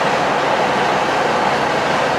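A train rumbles at Pen-y-Bont station platform in Wales, a loud, steady broadband roar of wheels and engine close by, continuous with no voices.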